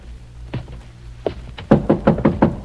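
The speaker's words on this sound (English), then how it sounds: "to answer the violent pounding on the outer door" Someone pounds violently on an outer door: a few scattered heavy knocks, then a fast run of five loud, booming blows close by.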